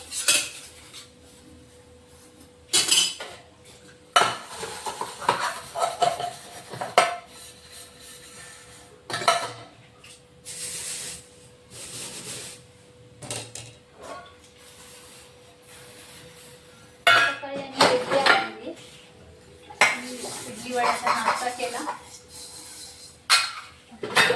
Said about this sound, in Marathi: आता भांडे घासून घ्यायचे